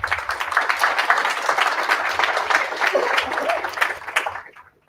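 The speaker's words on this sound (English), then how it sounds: "And let's have some applause." An audience at a Python meetup in Unterföhring gives a short burst of dense, steady clapping at moderate loudness, which fades out quickly near the end.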